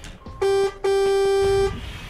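Normal horn of a Temsa Safir II VIP coach bus in Euro Truck Simulator 2 sounds in two steady tonal blasts, a short one followed by a longer held note, loud and close with no talk over it.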